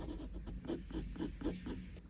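A pencil sketches clothing wrinkles on paper, with quiet, close, rhythmic scratchy strokes about every quarter second, soft but distinct.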